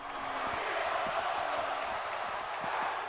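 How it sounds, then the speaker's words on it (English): Crowd noise in the WWE 2K16 wrestling video game, a steady dense roar of many voices chanting and shouting, loud and continuous throughout. "You see the crowd are shouting, "This is awesome,""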